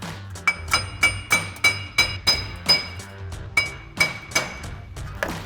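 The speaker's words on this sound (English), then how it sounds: "We're gonna grab a hammer, just tap along the edges" Sharp metallic taps from a hammer striking around the edges of a Ram 1500 front wheel hub to free it from the steering knuckle, about a dozen hits in a steady rhythm with a brief pause midway, close and fairly loud.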